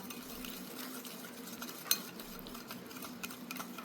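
Spoon stirring aloe vera gel into a homemade soap mixture in a bowl, a soft steady scraping with faint clinks, one sharper knock near the middle, close and quiet with no talking.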